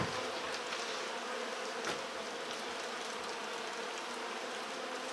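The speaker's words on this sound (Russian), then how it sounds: "Пчел здесь налетело, куча уже." A dense swarm of honey bees buzzes steadily indoors during honey extraction, a constant, loud hum filling the space with no pauses.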